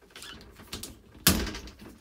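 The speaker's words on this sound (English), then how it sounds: "And then you can close the door." An RV bathroom door shuts with one sharp, close thud after a few light handling clicks, with no voices.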